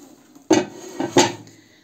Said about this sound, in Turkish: İçinden böyle bir tencere.